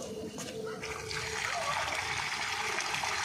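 Water is poured into a snake burrow beside a small room in Indira Nagar, giving a steady splashing, gurgling flow with a few voices in the background.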